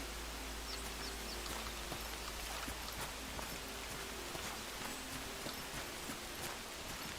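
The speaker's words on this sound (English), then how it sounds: "Oh, and now it's raining." Steady rain patters down over a campsite among trees, a soft continuous hiss with scattered drops striking nearby surfaces, alone and without voices.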